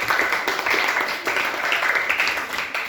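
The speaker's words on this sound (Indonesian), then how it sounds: "tepuk tangan untuk kelompok 1" A classroom of students applauds a presenting group, a dense, sustained patter of many hands clapping at moderate volume for about three seconds.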